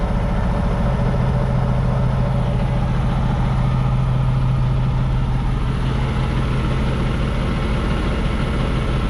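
A high-mileage lease truck's diesel engine idles right after starting, a loud, steady, low rumble that holds unchanged and close throughout, with no voices.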